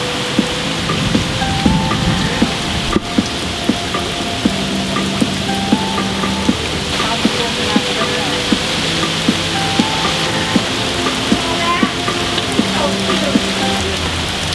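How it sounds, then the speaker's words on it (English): Steady rain falling on a surface, a dense even hiss with scattered drop taps, close and continuous throughout. "it got real dark out and it's just starting to rain"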